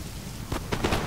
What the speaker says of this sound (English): It's kind of hard to see with the heavy rain.